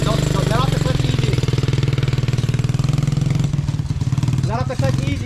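A Misas LS400 pit bike engine, freshly welded, runs loud and close with a steady rapid thumping idle while the clutch is held in gear, and voices talk over it throughout.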